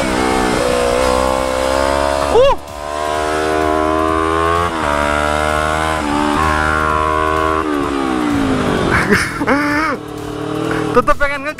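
A car engine revs and accelerates on a road race circuit, a loud sustained whine rising and falling through gear changes, with a person talking over it throughout.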